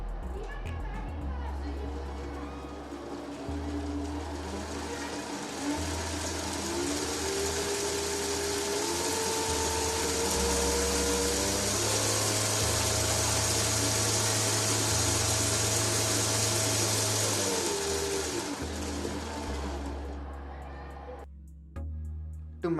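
A 775 DC motor turns a 3D printed planetary gearbox with a 20:1 ratio, giving a loud steady whine and hum whose pitch shifts a few times before it spins down and stops near the end.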